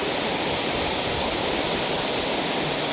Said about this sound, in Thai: ก็น้ำจะจะไหลลงไปเรื่อยๆเรื่อยๆอย่างนี้นะครับ ก็ ลงไปสู่ข้างล่างนะ